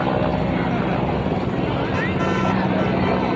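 A low-flying helicopter at a prime minister's arrival event in Bhavnagar gives a loud, continuous rotor and engine roar that fills the whole moment and covers everything else.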